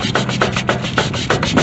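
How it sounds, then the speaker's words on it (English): Rusty shaft on a Yard Machine 14 HP LT lawn tractor being sanded with 320 grit sandpaper, steady rhythmic rasping strokes repeating about three or four times a second, close and fairly loud. "sand this just a little bit, not a lot. I'm using, what is it, 320? Yeah, 320 grit."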